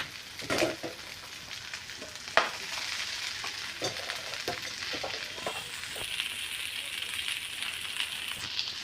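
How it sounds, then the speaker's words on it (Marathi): Okra frying in oil in a pan gives a steady, close sizzle with scattered spatula scrapes and clicks, one sharper knock early on, while the hiss holds fairly even to the end. "भेंडी आहेत ते मी तेलामध्ये थोडंसं परतून घेणार आहे"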